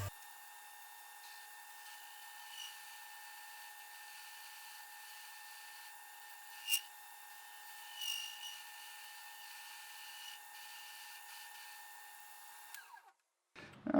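A metal lathe turning down a custom metal part in a home garage for a welded fabrication, a steady high whine with tonal ringing that runs continuously and fairly faintly, with a brief scrape midway before it stops at the end.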